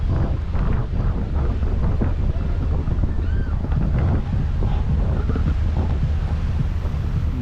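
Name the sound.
boat cruising past mountains, Musandam, Oman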